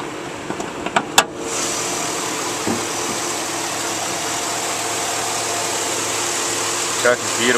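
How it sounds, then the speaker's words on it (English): A 2006 Chevrolet Z-71 crew cab 4x4 truck with 175,000 miles idles steadily, a smooth continuous engine hum with a few brief clicks near the start and a faint thump later. "Engine sounds perfect."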